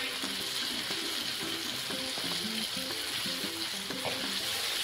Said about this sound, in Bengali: এবার এটা ভালো করে কষিয়ে নিতে হবে।